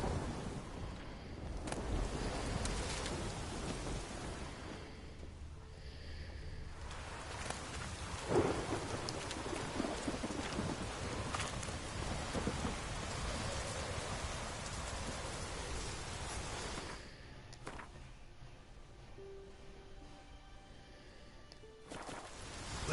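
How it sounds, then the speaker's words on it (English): A thunderstorm in The Witcher 3 video game, steady rain hissing throughout with rumbling thunder swelling and fading, loud and close with no talk. "Storm, damn it."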